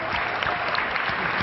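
A startup pitch audience claps in a quick, full round of applause, loud and dense from start to finish over a brief moment.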